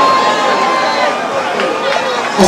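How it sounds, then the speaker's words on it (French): A crowd at a concert applauds and cheers, making a loud, dense, steady wash of clapping and voices with no pauses. "Applaudissons encore une fois, s'il vous plaît."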